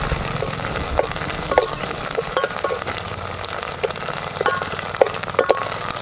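Garlic, grated coconut and curry leaves sautéing in a pan, a loud continuous sizzle with scattered clinks and scrapes of stirring, no talking.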